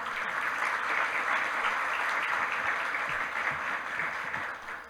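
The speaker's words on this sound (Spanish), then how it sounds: "Un aplauso pues para la alcaldesa, por favor." Sustained applause from a congress audience for the mayor of Ibagué, a broad, even wash of many hands clapping that holds for several seconds before tapering slightly.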